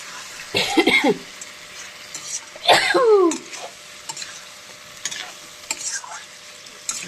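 A tangra fish curry is stirred and sautéed in a pan after a splash of water, with scraping spatula strokes and a low sizzle, plus a couple of brief voice sounds over the cooking.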